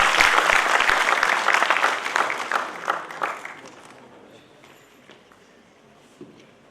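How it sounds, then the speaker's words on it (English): Dense applause from a large conference audience, loud at first and then thinning out into scattered claps that fade over several seconds. "Give a big round of applause."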